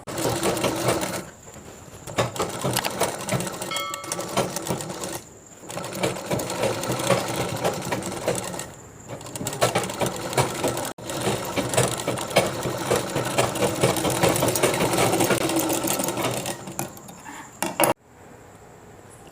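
A sewing machine stitching a chudidhar collar neck runs in loud, rapid bursts with brief stops between runs, a close rattling whir with a sharp clunk near the end.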